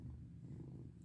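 A cat purring up close, a steady low rumbling drone that runs without break through the short moment, soft but continuous, with no talking over it.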